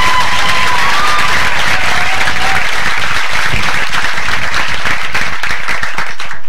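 A stage comedy crowd bursts into heavy applause and cheering for comedian Bob Saget, a steady wall of clapping with scattered whoops that holds strong throughout.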